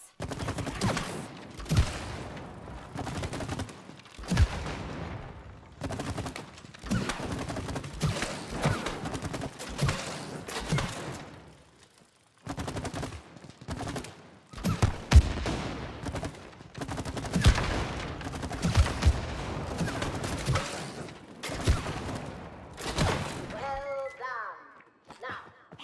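Gunfire rattles at shooting targets in the co-op video game It Takes Two, repeated bursts of rapid shots in uneven clusters with short pauses, mixed with game effects and occasional voices.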